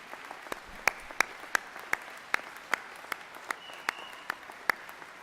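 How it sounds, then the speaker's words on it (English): A community college commencement crowd applauding, with sparse, distinct claps rising from a thin, somewhat distant audience and holding steady throughout. "Let's give them a round of applause."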